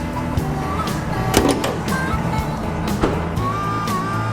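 The hood release on a 2020 Ford F-250 is pulled, giving a couple of sharp, close latch clunks over a low background rumble.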